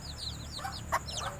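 Malaysian Serama chickens and chicks give soft, quick clucks and high peeping chirps, faint and close, with one slightly louder call in the middle.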